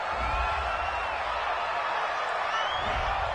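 A home stadium crowd at an NFL game, Falcons at Raiders, roars steadily in reaction to a penalty call, a dense, sustained wash of cheering with no break across the moment.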